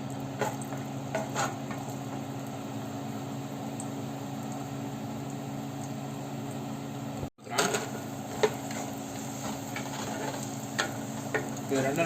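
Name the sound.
cashews and raisins frying in ghee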